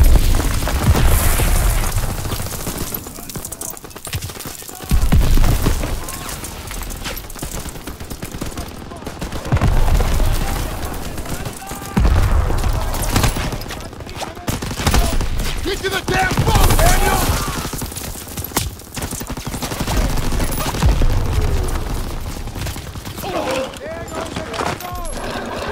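Battlefield gunfire and explosions in the World War II shooter Call of Duty WW2: continuous bursts of rifle and machine-gun fire with heavy booms throughout, loud and close, with soldiers shouting over the din.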